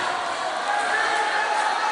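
Basketball crowd noise at Pasig City Sports Center during a PBA Legends game: a steady, dense roar of voices fills the arena, constant and loud throughout with no clear peaks.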